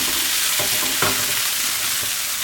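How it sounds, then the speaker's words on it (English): A whole package of mushrooms frying in a pan, stirred with a spoon, produces a loud, constant sizzle broken by a few scraping stir strokes, with no voices. "Just let's give it a little stir"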